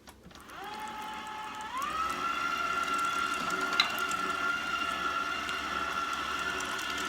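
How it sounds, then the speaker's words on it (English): An electric meat grinder fitted with a coarse plate grinds pork for homemade mild Italian sausage, with a steady motor whine that rises in pitch shortly after starting and then holds, moderately loud and close. "just grind this up"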